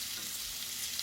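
Pieces of beef browning in a pan over high heat, a steady bright sizzle with no break.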